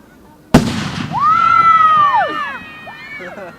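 A single loud firework blast bursts suddenly, followed by crackling and fizzing as it spreads, while onlookers nearby let out a long, rising exclamation over the display.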